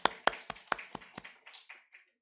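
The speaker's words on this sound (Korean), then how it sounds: "우리 박내연 집사님께 박수." A small church congregation claps for a deacon after a scripture reading, a handful of sharp, close claps in quick rhythm that thin out and fade within two seconds.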